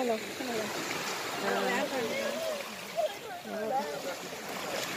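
Waves wash up on a shore at night, a constant broad rushing wash with voices talking over it.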